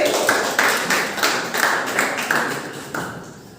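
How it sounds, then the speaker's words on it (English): A group of middle-school students in a classroom claps for a quiz team. The claps come in rhythmic pulses, close and fairly loud, and fade slightly toward the end, with no talking over them. "Clap for team A."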